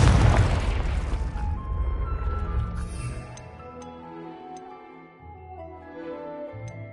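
A Confringo fire spell explosion in a video game, a loud booming burst right at the start that rumbles and fades into a lingering tail with faint chimes, no talk over it.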